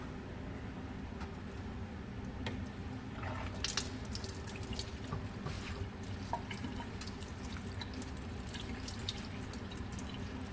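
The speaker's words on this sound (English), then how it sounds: "And then I'm just going to rinse." Running water rinses a benthic sample after ethanol is removed, a steady stream splashing and trickling up close with scattered drips and light handling sounds, no talk.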